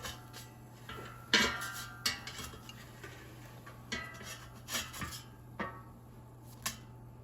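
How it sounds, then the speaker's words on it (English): An air fryer basket is pulled out and portobello mushrooms are flipped, producing light metallic clinks, taps and scrapes from tongs and basket in an irregular sequence over a low steady hum. "let's take out the air fryer basket and carefully flip the mushrooms over"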